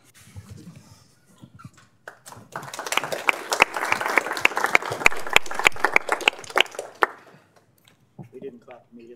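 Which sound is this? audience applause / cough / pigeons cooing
audience applause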